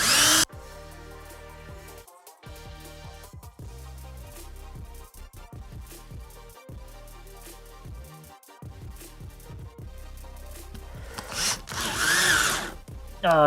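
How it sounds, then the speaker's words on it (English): A cordless power drill with a dull bit bores through wood, a steady whirring drone broken by brief stops, close and fairly loud, ending in a higher-pitched burst. "So let's go ahead and drill that."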